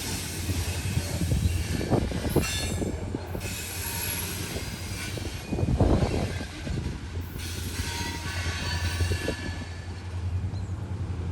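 A CSX freight train loaded with rock rolls past at a distance, a steady rumble of wheels on rails with occasional metallic squeals rising and fading.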